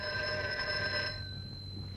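A 1950s telephone bell rings loudly and steadily in an indoor scene from a 1956 science fiction television episode, then cuts off, leaving a fainter lingering tone and quiet room noise.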